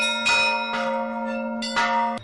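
Small church bells ring during a bell-ringing master class, several clear metallic strikes at irregular intervals with long ringing tones that sustain and overlap between hits, loud and close.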